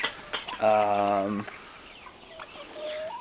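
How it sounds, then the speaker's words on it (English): Chickens on a North Idaho homestead make a loud, drawn-out squawk followed by softer clucks and calls nearby, with a voice briefly audible. "Crazy chickens."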